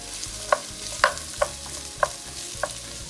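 Onion and garlic fry softly in a pan under a steady low sizzle, with about six light scraping clinks of a utensil stirring at a regular pace.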